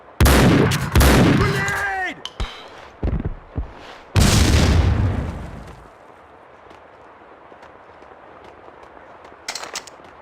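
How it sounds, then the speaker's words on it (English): Grenade explosion in the Max Payne 2 video game: a loud broadband blast around four seconds, following gunfire bursts and a shouted voice, then decaying into a quiet rumble with a faint later crackle. "Grenade!"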